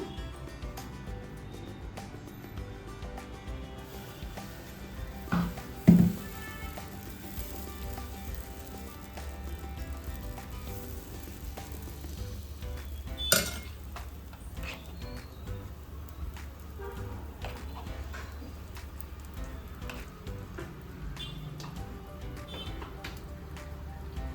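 Low, steady sizzle of masala paste frying in a pan for a country chicken curry, with a few soft knocks and scrapes of stirring around five to six seconds and again near thirteen; no speech.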